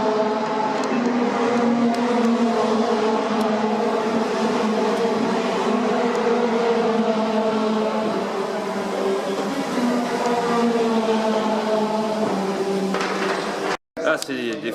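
Lamborghini Huracán GT race car with a V6 engine running in a GT team garage, a steady loud engine drone with a constant pitch that holds throughout, then cuts off abruptly near the end before a brief resumption; voices murmur faintly beneath it.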